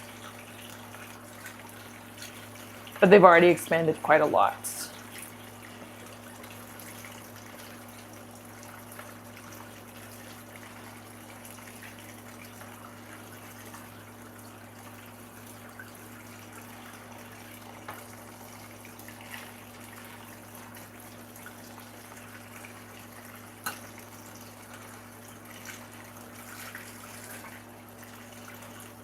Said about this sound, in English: doing a rinse-a-rooney until the water runs clear